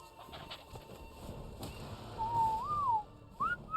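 A bird calls with a clear rising and falling whistled note, followed by a short upward chirp, heard close over a faint noisy background with occasional handling knocks.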